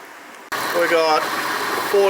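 A Toyota FJ Cruiser engine idles steadily while warming up during a transmission filter service, starting abruptly after a brief quiet moment and holding a close, even hum with a faint tonal whine over it.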